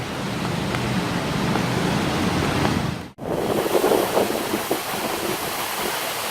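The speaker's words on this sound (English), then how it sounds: "It also has a pretty prominent water feature." A prominent water feature at the Hawaii State Capitol gives off a steady, broad rush of splashing water, continuous and fairly loud, with a brief cut midway.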